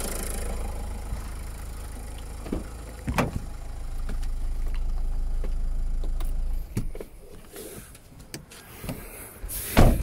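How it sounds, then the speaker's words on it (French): Renault Clio 1.5 dCi diesel engine idles with a low, steady rumble, then is switched off around the seventh second, leaving quieter clicks and small mechanical sounds afterward. "maintenant je vais arrêter le moteur"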